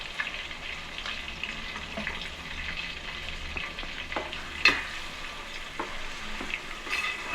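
Vegetables stirred in a frying pan for a Nellore-style fish curry, a low continuous sizzle with scattered scraping and clinking of a utensil against the pan, fairly quiet and without talk.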